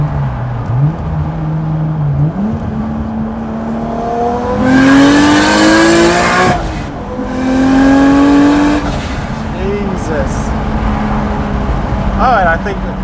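A Skyline car's engine revs up and climbs in pitch through gear changes into third, rising twice to loud peaks, with voices talking over the drone.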